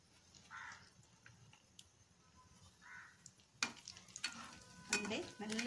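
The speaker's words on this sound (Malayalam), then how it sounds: "ഈ എണ്ണയിലേക്ക് അണ്ടിയും മുന്തിരിയും വറുത്ത് പോരാം." Cashews and raisins fry in hot oil for a rice biryani, a soft sizzle with a few spoon stirs and scrapes building toward the end, close and fairly quiet, no talking.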